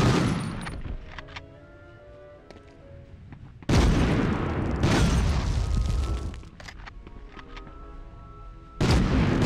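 A grenade detonates in the Medal of Honor video game during the Rjukan hydro plant mission, giving heavy booming blasts amid scattered gunfire, with a big explosion near the middle and another at the end.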